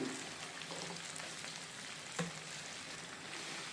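Ginger onion medu vadas sizzle and fry in hot oil, a steady close crackling hiss with a brief louder pop partway through.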